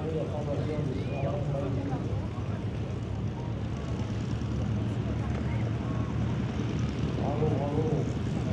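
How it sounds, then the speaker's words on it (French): Propeller planes, a Stearman among them, fly in formation at the La Ferté-Alais air show, their engines droning steadily from a distance while a commentator talks over a crowd. "regardez la formation du soir"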